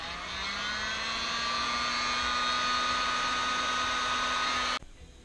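A heat gun blows on heat shrink tubing over a drone ESC, producing a steady, close, whooshing hum with a slight rising tone that cuts off sharply near the end.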